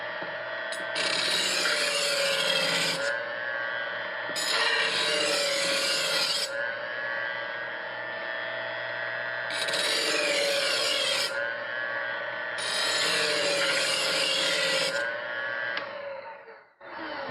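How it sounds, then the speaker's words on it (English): A knife blade drawn across a sharpening stone in long, even rasping strokes, four passes separated by short pauses, close and clear with no talking. "at that point, we just simply flip it over and continue sharpening."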